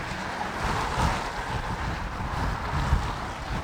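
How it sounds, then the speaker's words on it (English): Continuous roar of traffic on a busy road in the West Midlands, heard from a footpath beside it, a dense rushing wash of passing vehicles mixed with wind buffeting the microphone. "Busy, busy road."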